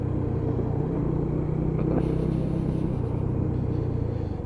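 A Lexmoto ZSB motorcycle on a test ride holds a steady, low engine rumble and drone with wind noise. The sound is loud and continuous throughout, with no speech.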